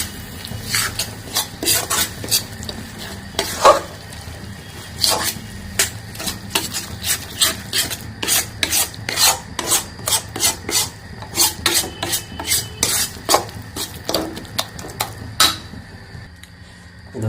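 Ground turmeric, cumin, coriander and Kashmiri chili powder being stirred in a pan for a Bengali-style mixed vegetable dish, giving close, steady rhythmic scraping and rasping strokes of a spoon against the pan, with no talking.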